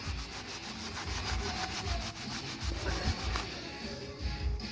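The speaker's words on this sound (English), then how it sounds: "I find that you rub it back into the grain." A sand-less paint stripper pad rubbed back and forth along the wood grain makes steady, rhythmic scrubbing strokes, close and continuous, with no talking.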